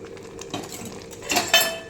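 A metal spoon stirs milk into sweet chakkera pongali made with jaggery in a pot, giving soft scraping and a few sharp clinks against the rim, louder near the end.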